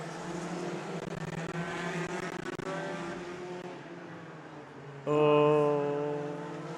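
Stinger race cars in a figure 8 race at Evergreen Speedway, a pack of engines droning loud and steady, then one car roaring close by with a sharp rise in pitch and volume near the end.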